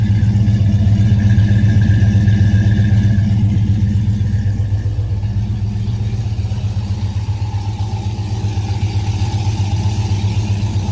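A 1970 muscle car with an air grabber hood and electronic exhaust cutouts runs steadily nearby, its loud, deep engine rumble holding even for about eleven seconds with no talk over it.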